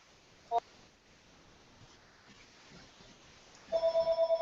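A telephone rings in a pulsing electronic trill, a brief burst early on and then a steady repeating ring near the end, moderately close against a quiet room.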